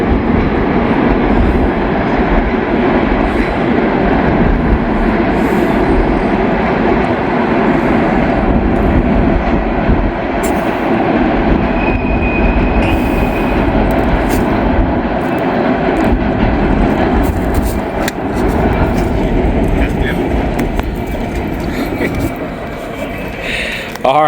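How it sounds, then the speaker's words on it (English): A short freight train of empty steel coil cars rumbling across an old bridge, a continuous loud low roar of wheels and cars that holds steady for the whole stretch, with faint metallic squeals near the middle. "there goes that train"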